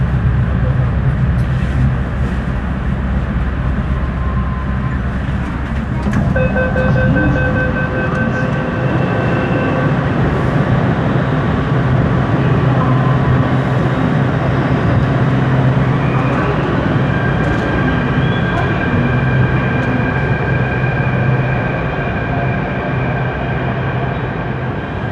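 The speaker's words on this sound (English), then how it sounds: "On Jaipur Metro. It's one line, modern system" Jaipur Metro train running on its single modern line, a loud steady rumble heard from onboard with sustained motor whine and rising electric tones as the train accelerates.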